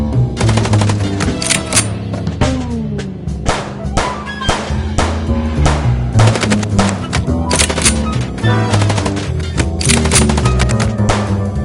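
Gunfire from the video game Chicken Police: Paint It Red, sustained rapid bursts of shots with sharp cracks over a steady game score, loud and continuous throughout.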